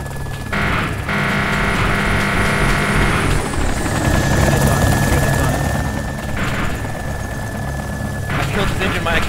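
A Hind attack helicopter in a video game flies with a loud, continuous rotor and engine drone and a sustained whine, while gunfire bursts and explosions punctuate the steady roar.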